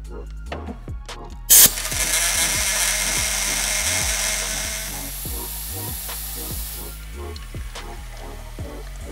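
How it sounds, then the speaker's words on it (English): Compressed shop air blasts through a fitting driven into the side of an aircraft oil filter, a sudden loud rush after a few clicks, holding steady for several seconds, with a faint repetitive mechanical thumping underneath. "Now I'm gonna get this air fitting and blow shop air through"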